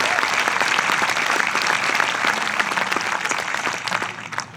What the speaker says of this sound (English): Let's give that a clap,